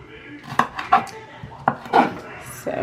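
Knife cutting a vegetable on a board: several sharp, close clicks and taps in an uneven rhythm, about five distinct strikes with brief scraping between.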